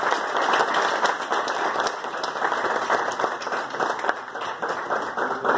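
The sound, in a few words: audience applause welcoming a speaker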